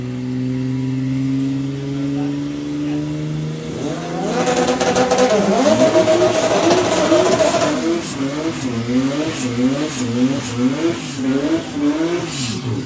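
BMW Pro Doorslammer drag car engine at a drag racing event, idling with a steady drone before rising into loud, rhythmic revving as boost builds, the pitch climbing and dipping repeatedly nearby.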